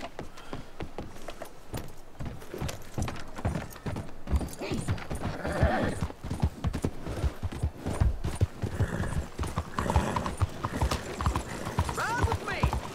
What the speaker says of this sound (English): Nehmen wir mal unser Pony und reiten auf die andere